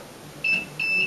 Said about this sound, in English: 3 beeps acknowledges that the command has been successfully entered